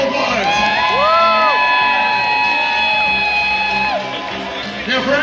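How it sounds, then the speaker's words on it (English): A lively festival crowd at a food event cheers and whoops with children shouting, the rising and falling voices loud and close over steady background chatter. "Give them a round of applause."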